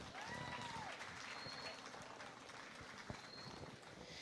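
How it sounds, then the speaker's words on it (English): A crowd at a 4-H goat show claps for beginner showmen in the show ring, giving sustained applause of moderate loudness at some distance. A few louder individual claps stand out near the end. "let's give these beginner showmen a round of applause tonight"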